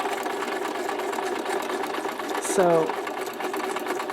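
A sewing machine stitching through paper snippets for a collage whirs in a steady, close mechanical hum throughout, while a voice briefly speaks near the end.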